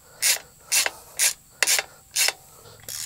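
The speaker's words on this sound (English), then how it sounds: "So I'm just tightening that down enough so that that carriage bolt is recessed in just a little bit." A ratchet tightens a carriage bolt on an aluminum tiny-house undercarriage, with five evenly spaced bursts of clicking strokes, close and fairly loud, and no talk.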